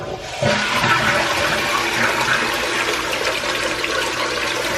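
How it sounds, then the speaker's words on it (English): A toilet flushes loudly and close by, with a sudden rushing gush of water that keeps swirling steadily for several seconds after cleaning with citric acid. "let's go ahead and give this a good flush"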